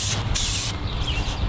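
Aerosol spray paint hisses onto a BMX frame in a loud, close burst, pausing briefly before a second, softer spray.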